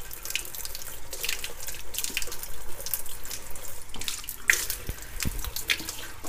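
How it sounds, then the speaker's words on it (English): Tap water runs steadily into a sink while a freshly gutted chicken's cavity is rinsed out, with close splashing and dripping that keeps going without a break. "Give her a good rinse in the cavity just to make sure there's nothing, no loose material in there"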